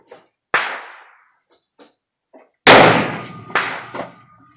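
A sharp, loud report from a period .45-70 Trapdoor Springfield rifle, standing alone with a long decaying tail, preceded by several fainter clicks and softer impacts and followed by a couple of smaller echoing bangs.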